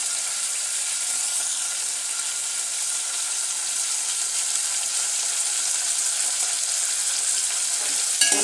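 Tomatoes sizzle and fry steadily in hot masala for vegetable biryani, a continuous bright crackle holding at an even level with light stirring throughout, no voices.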